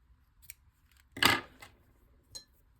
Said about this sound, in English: So I'm just going to cut off a piece of this ribbon.